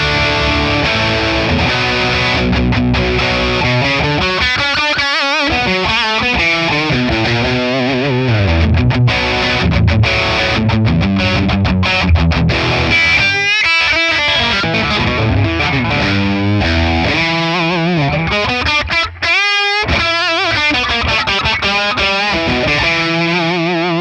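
A Les Paul electric guitar played through a high-gain amp capture chugs heavily distorted rock riffs and chords, loud and continuous, with a few brief stops between phrases.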